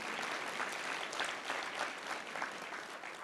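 An audience at an anniversary breakfast celebration applauds steadily, a dense, even patter of many hands clapping at moderate distance with no voices over it.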